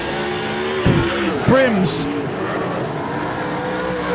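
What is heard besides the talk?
super sedan race cars racing at Rockhampton Speedway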